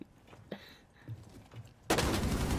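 Gunfire in a first-person shooter video game erupts as a sudden dense burst of rapid shots near the end, loud and close, after quieter scattered thuds.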